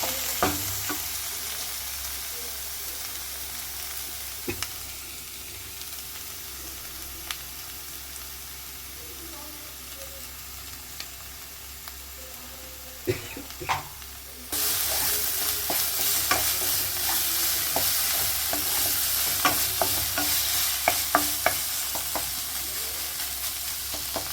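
Coriander powder fries in a pan with a steady sizzle and occasional spoon taps, the frying growing louder and brighter halfway through as more stirring clatters in.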